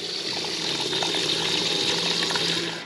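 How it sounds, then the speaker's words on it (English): Water draining down from a domestic heating system into a large plastic tub, a steady, continuous rushing pour close by, with no break and no voices. "that's the heating drain down"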